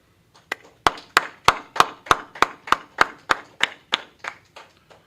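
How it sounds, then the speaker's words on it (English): Sharp, evenly spaced claps ring out in a steady rhythm, about fifteen in a row, close and distinct before fading slightly at the end. "All right, clap it up."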